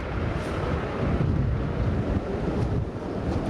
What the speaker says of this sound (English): The wind is so strong here in Palm Springs that it even caused this stoplight to break